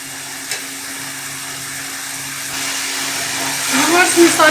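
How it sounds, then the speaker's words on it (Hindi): Masala frying in oil in a pan for koftas, a steady close hiss of sizzling that grows a little louder toward the end, with a soft whirring hum underneath and no clear talk. "ये जब तक फ्राई नहीं होता हम इसको पकाते रहेंगे।"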